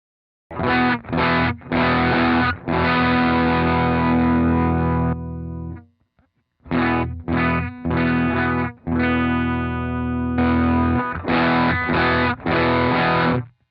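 A distorted electric guitar through a Timmy overdrive pedal plays loud overdriven chords in bursts, with sustained ringing notes and a brief pause midway before the riff resumes.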